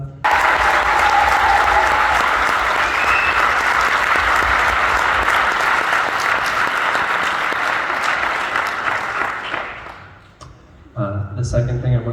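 Loud, dense applause from a concert audience that roars steadily for about ten seconds, then fades out before a voice begins speaking.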